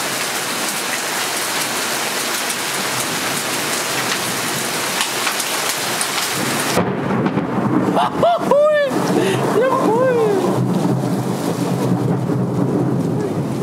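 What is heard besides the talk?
thunderstorm with rain during motorcycle trip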